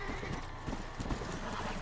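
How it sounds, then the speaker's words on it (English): Horse hooves clip-clop on the ground and a horse neighs in the Red Dead Redemption Undead Nightmare video game, fairly quiet, with a voice speaking over the game sounds. "Come here, you smelly horse."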